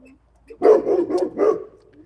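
A Great Pyrenees gives a few deep, close barks in quick succession, gruff and loud, then trails off into a low whine.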